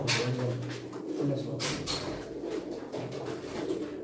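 A male pigeon, smoky-grey with white wings and a white tail, coos in low, repeated throaty phrases at close range over faint background noise.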